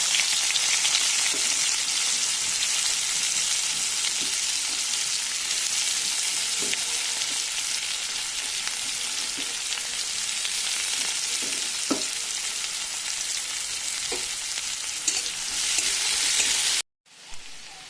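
Onions fry in hot oil in a wok with whole cumin seeds, a loud continuous hissing sizzle broken by occasional light stirring taps, cutting off briefly near the end.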